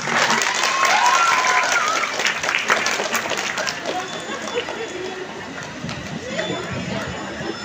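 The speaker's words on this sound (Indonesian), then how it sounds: "Tepuk tangan buat Ananda Nobus." An audience applauds at an Islamic boarding school graduation ceremony marking completion of Quran memorization, a dense sustained burst of clapping that gradually thins, with crowd chatter and voices mixed in.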